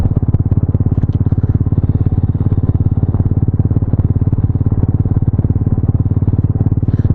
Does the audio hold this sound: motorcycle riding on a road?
yes